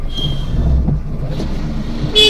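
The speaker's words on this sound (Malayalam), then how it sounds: "ഒരു ബസ് വരുന്നുണ്ട്." A bus on a road in Kerala passes close by with a low, steady engine rumble, and a brief higher hiss near the end that could be an air brake.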